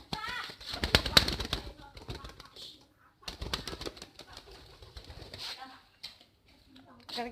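Pigeons flap their wings in quick, loud bursts at close range, with soft cooing and a person's voice mixed in.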